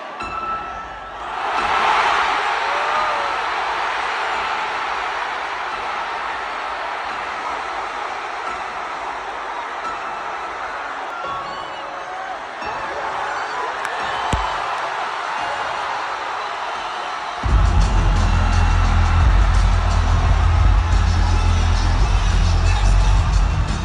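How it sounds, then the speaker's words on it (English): A large concert crowd at a show in Orlando roars loudly and steadily as a guest appears, the cheering swelling into a dense wall of noise that grows heavier and louder toward the end. "Just listen to the crowd roar once they hear one key from that piano."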